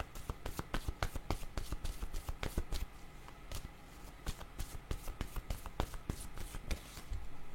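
Cards being shuffled for a card reading, a rapid, close run of crisp riffling flicks and snaps that continues steadily with a few brief lulls, with no voice over it.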